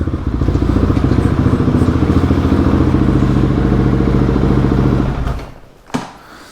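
Motorcycle engine running steadily and loud up close, a rough rapid pulsing held for about five seconds before it cuts off, followed by a brief knock and quiet, in a comparison of a KTM 300 EXC and a Husqvarna 701.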